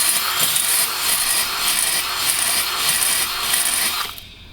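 Drill-driven hone working inside a Jabiru aircraft engine cylinder at low speed, a steady close rasping, scraping scrub with rhythmic stroke pulses that runs continuously for about four seconds, then stops abruptly.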